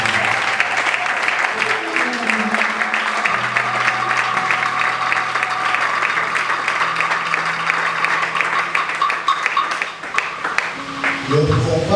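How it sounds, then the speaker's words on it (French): A large audience at a church assembly in Kinshasa applauds and cheers in one sustained, dense wash of clapping and acclaim. Voices and tonal sound run beneath it, then the applause thins slightly near the end. "Est-ce qu'on peut acclamer la vie?"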